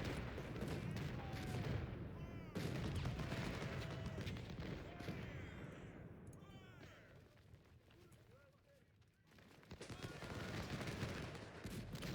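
Cannon and gunfire from the Civil War strategy game Ultimate General: Civil War at Antietam, with dense bursts of battle noise, brief lulls, near silence around eight seconds, then renewed firing.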